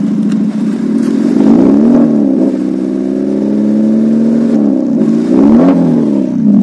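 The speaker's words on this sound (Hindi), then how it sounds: "अभी एक बार मैं इसकी एग्जॉस्ट की साउंड सुनाता हूँ।" A modified Maruti Suzuki Swift's exhaust drones loudly up close, revving up and settling back in smooth swells several times, with a deep steady burble between rises.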